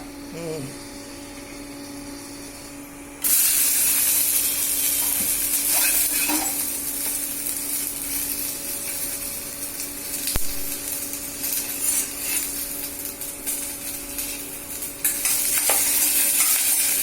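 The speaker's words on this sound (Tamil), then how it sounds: "அந்த வளவளப்பு தன்மை போகிற வரையிலும் இதை வதக்கி எடுத்து வச்சுக்கணும்" Okra sautéed in oil in a pan, stirred with a utensil, giving a steady sizzle and scraping that jumps louder after a few seconds and continues with occasional clinks, with speech now and then.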